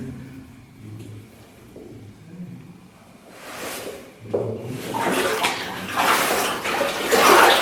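Someone wades through cold water in a flooded gold mine, quiet at first, then loud repeated splashing and sloshing surges as the steps push through the water.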